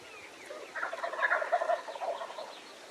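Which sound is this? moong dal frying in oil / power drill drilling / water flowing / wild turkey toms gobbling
wild turkey toms gobbling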